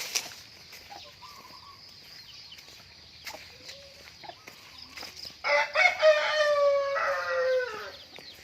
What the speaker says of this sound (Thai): เอามาขังไก่ใหม่